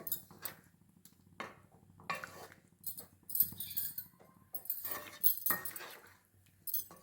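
A spoon clinks and scrapes in a pot as lentil dumpling curry, paruppu urundai kulambu, is stirred, giving intermittent quiet metallic knocks and scraping bursts close by.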